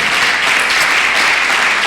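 A church congregation claps loudly and steadily during a Spanish-language worship service, a dense, continuous wash of many hands that fills the room without pause and with no voices on top.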